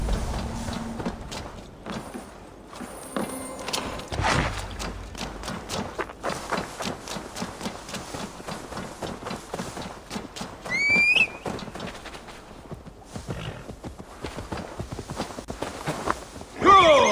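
Horse hooves clip-clopping in a steady walking rhythm in the Assassin's Creed Valhalla video game, with a brief neigh partway through and a soft music bed underneath.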